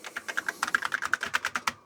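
An Apple II+ clone keyboard being typed on as a test: a rapid, steady run of about seventeen crisp, clicky keystrokes, close and clear, with no talking.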